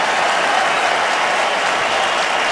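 A football stadium crowd at an Eagles–Giants game applauds a player, sustained dense clapping and cheering throughout at a steady, loud level.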